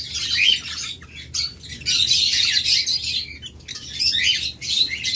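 A breeding pair of high-quality pet birds chirps steadily, with bright bursts of tweets and calls nearly nonstop at close range, sounding as though they are in a cage.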